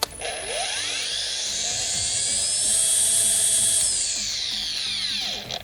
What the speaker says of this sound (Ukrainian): вмикаємо тример, вмикаємо ліску і пробуємо